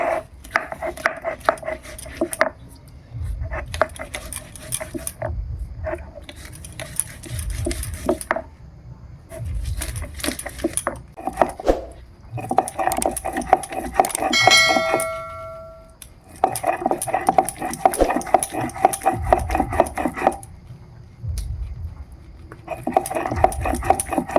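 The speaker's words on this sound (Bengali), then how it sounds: "আর একটু রাই সর্ষে নেব সাদা সর্ষে যাকে বলে অল্প একটু নিলাম একটু জল দিয়ে এবার বেটে নেবো" White mustard seeds and green chili are ground with a little water on a stone grinding slab for a cashew and tomato gime greens dish. Close, rhythmic scraping and knocking strokes come in bursts separated by short pauses.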